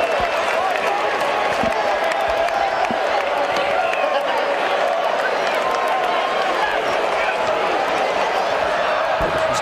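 A college football stadium crowd at a Nebraska at Kansas game in 2005 keeps up a continuous, loud roar of cheering and applause that stays broad and steady throughout.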